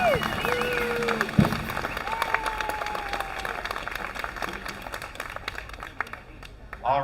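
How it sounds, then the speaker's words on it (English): Crowd applause at an outdoor patriotic music concert after a kids' parade in Yuba City, honoring the fire department and police; steady clapping runs throughout alongside faint talk and scattered voices. "let's give them a nice big round of applause for all their help this morning"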